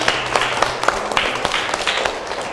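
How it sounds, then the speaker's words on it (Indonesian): Audience applause in a classroom teaching session, a steady patter of hand claps with sharper individual claps standing out, fairly close and continuous for a couple of seconds. "Tepuk tangan dong untuk kita semua."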